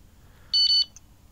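An electronic bite alarm on a fishing rod gives a short, sharp burst of high beeps, then a single fainter beep, in a quiet night setting.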